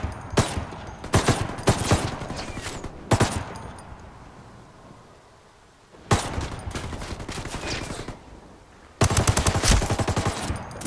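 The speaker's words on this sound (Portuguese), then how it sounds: "estão atirando" Video game gunfire comes in rapid automatic bursts, loud and close, broken by short lulls. The sustained volleys start and stop abruptly, with a few single shots between them and no voices.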